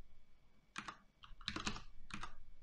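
Keystrokes on a computer keyboard while writing search-and-replace code, three short bursts of quick clicks close up with brief pauses between, no voices.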